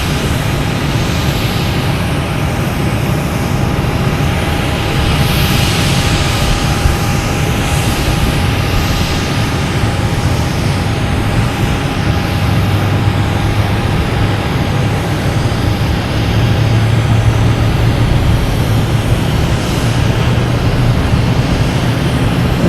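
A British Airways airliner comes in to land at Boston Logan airport, a loud, sustained engine roar with a steady whine that holds for over twenty seconds and swells slightly toward the end, with no talking.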